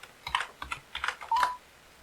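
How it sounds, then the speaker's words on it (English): Several distinct key presses on a keyboard or calculator while entering a sine theta formula, spaced in a quick irregular rhythm with a short electronic beep near the end, close and fairly quiet. "Type in the sine theta formula."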